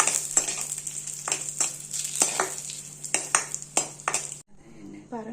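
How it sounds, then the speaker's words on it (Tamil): Dried red chillies fry in about a teaspoon of oil in a pan, giving a steady bright sizzle with repeated stirring scrapes and utensil clinks, then the frying cuts off near the end. "ஒரு டீஸ்பூன் அளவுக்கு எண்ணெய் ஊற்றிட்டு அதில் நம்ம கிள்ளி வச்சிருக்க காஞ்ச மிளகாவை போட்டு வறுத்து எடுத்துக்கலாம்"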